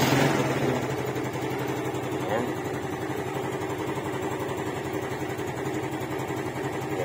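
A Yamaha Mio Sporty 110cc motorcycle engine idles steadily up close, a constant buzzing putter with an even rhythm that runs the whole time without a break after a slightly louder start.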